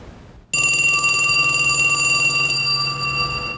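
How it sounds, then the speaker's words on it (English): A telephone bell rings loudly and continuously for about three seconds, a bright, steady metallic trill heard close with no voices over it. "Isn't that your phone ringing?"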